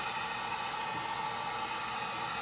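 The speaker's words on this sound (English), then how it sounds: "it's kind of like the hand dryers in the bathroom. You give it a little heat on low" A hair-dryer-style heat gun on its low setting blows warm air over disassembled Nambu pistol parts, giving a steady, even broadband whoosh that holds unchanged throughout with no talking.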